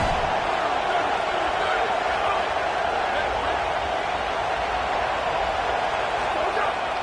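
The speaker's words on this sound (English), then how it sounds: "This crowd bringing the energy and noise early." A steady, dense roar of a large college football stadium crowd at an Ohio State versus Miami game fills the whole stretch, continuous and loud with no breaks.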